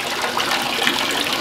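Water drains steadily from a soaked coco coir block used as bedding, a continuous close, moderately loud wet trickle and gush with no pauses.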